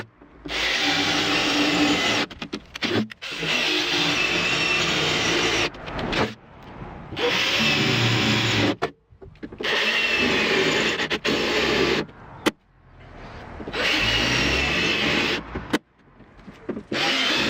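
A power drill whines in repeated long bursts, grinding into the metal body of a Mazda MX-5 near its fuel tank, with short pauses between each run; close and loud.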